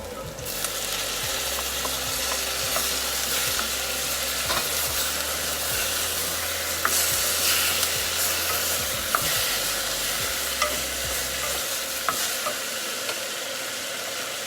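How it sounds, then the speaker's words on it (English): Chopped tomatoes go into onions frying in medicated ghee for pav bhaji, with a steady loud sizzle throughout and repeated scraping and stirring strokes of a spoon against the pan. "This is the time where I'm going to add the tomatoes."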